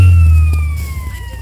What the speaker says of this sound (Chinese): 啊，救护车来了